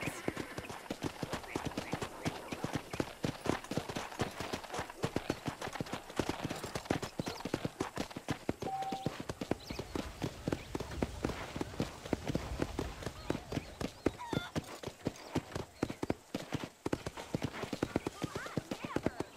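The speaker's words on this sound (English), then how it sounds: "I picked out a fine horse for you." Horse hooves clip-clop steadily and quickly on a ranch in the Red Dead Redemption video game, a dense, even rhythm of many hoofbeats running throughout, with a voice speaking over the trotting.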